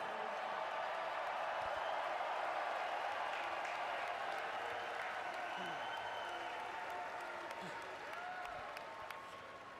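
A large crowd at the NFL Draft applauds and cheers continuously, a dense wash of clapping and voices that holds steady before easing slightly near the end.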